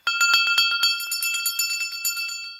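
An old bell dug up while metal detecting is shaken with its clapper still attached, giving a rapid series of bright, close, ringing clangs that fade slightly over a few seconds.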